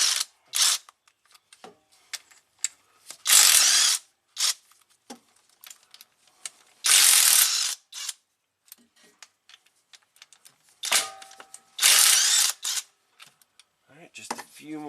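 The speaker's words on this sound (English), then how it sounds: "So the impact does pretty easy work of these." Impact wrench loosening the bolts holding a Jeep Grand Cherokee transfer case together during a repair, firing in several loud, separate bursts of rattling hammering, each about a second long, with quieter clicks and handling noise in between.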